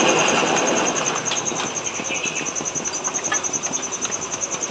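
A small 5-volt blower runs after being oiled, whirring steadily with a high whine and a rapid pulsing flutter that grows more regular toward the end.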